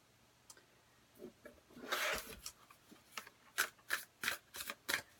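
Soft rustling and quick riffling bursts of tarot cards being shuffled, several short flicks in a row toward the end, close and fairly quiet.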